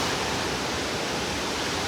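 Steady, close waterfall rushing without a break, a broad roar of falling water beside a path that runs beneath the falls in icy winter conditions.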